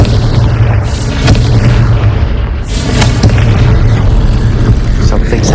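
A Confringo fire spell goes off in Hogwarts Legacy as loud, booming blasts with a deep rumble, filling the whole stretch with dense, continuous noise.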